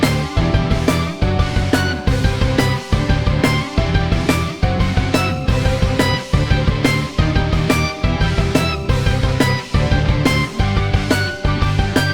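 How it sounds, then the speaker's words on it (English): Arpeggiated guitar inside the chorus of a produced song, picked notes running in a steady repeating pattern over a full, loud mix with strong regular drum hits, no talking. "instead I arpeggiated it and it sounds like this."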